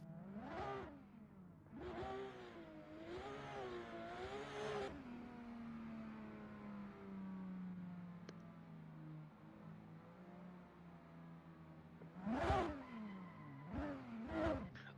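Race cars in a sim racing drag competition, including an F14 and an E82 BMW, revving and rowing up through the gears, engine pitch climbing and dropping repeatedly, then a long fading whine before more sharp revs.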